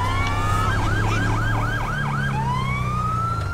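Police sirens approach in the video game GTA V, a wailing yelp cycling rapidly over a steady low engine rumble, then sliding into a long rising wail, loud and continuous throughout.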